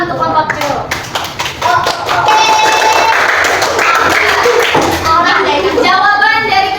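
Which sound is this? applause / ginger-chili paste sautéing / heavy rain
applause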